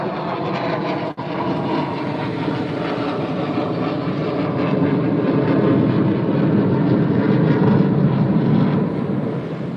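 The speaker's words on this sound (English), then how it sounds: "Oh my goodness, the planes." Airplanes fly overhead, a loud, steady broadband roar of jet engines that keeps rising gradually and never stops, with no voices over it.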